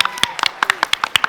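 Scattered claps from a small audience at a trivia competition, a dozen or so sharp uneven hits over a moment, mixed with a voice tone in the background.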